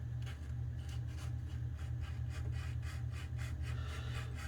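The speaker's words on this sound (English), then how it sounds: "I'm just going to go ahead and file the pin all the way around" Steady rhythmic rasping of a file worked around the metal pin of a straight razor, repeated strokes close and continuous for several seconds with no talking.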